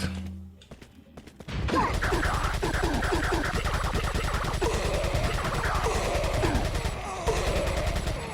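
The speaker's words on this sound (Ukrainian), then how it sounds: "Так, тут треба кулемет." Machine gun fire in the video game Resident Evil 4, a loud steady automatic stream of rapid shots starting abruptly and continuing for several seconds with little break.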